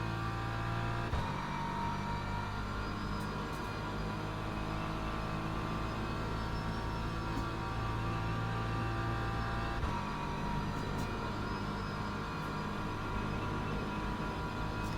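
A BMW M4 GT3 race car at Monza in the Le Mans Ultimate racing game, its engine a steady, sustained drone with shifting tonal layers, heard continuously up close with a brief dip around a gear change.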